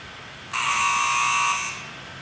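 A countdown timer on an iPhone or iPod Touch sounds its alarm as a routine finishes, a single loud, shrill electronic buzzer tone held for just over a second and then cut off.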